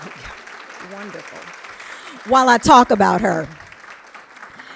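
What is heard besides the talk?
audience applause at a luncheon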